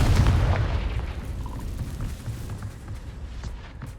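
A Confringo blasting-spell explosion in the video game Hogwarts Legacy, with a loud low boom at the start that decays into a rumbling tail, heard on its own with no talking.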